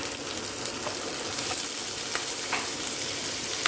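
Chopped onion sizzling and frying in a pan with crushed fennel and star anise for an egg curry, a continuous close hiss with faint crackles and occasional stirring, no talking.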